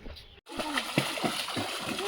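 Water splashes and sloshes repeatedly as someone bathes in dirty, foul water outdoors, the rhythmic splashing close by with voices talking over it.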